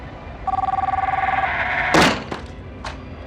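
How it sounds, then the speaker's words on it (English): Telephones ring in a rapid electronic trill inside a hospital room, a steady pulsing burst that stops abruptly, followed by a loud thump and a few sharp knocks close by. "Our phones were ringing on their own."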